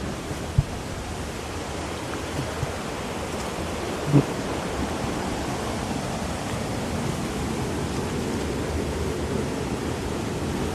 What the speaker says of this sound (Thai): น้ำตกชั้นที่หก